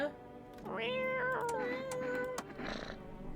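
A cat in a video game meows repeatedly, drawn-out close mews over a faint background hum, with a few clicks like keys between calls.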